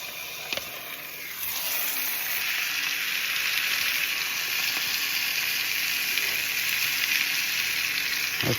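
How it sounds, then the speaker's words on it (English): Pot roast meat sizzles loudly in a hot pan, a steady crackling hiss that swells after a brief clatter and stays constant throughout. "You hear that sizzle?"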